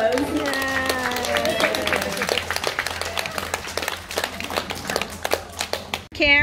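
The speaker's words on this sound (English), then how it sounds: "let's give Miri a round of applause." Small group giving a round of applause outdoors in Coffs Harbour, sparse distinct claps in an uneven rhythm over a tonal whistle-like sound at the start, with voices mixed in.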